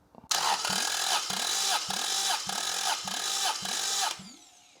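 An engine cranks over on the starter during a cylinder 2 compression test on a new motor, a steady rhythmic churning of about eight even compression strokes, loud and close, cutting off abruptly after about four seconds.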